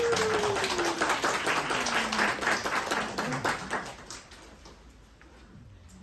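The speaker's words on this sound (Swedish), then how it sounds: "En applåd." At a children's summer closing event, a small audience claps in a brisk, fairly close patter that starts strong and gradually thins out and fades toward the end.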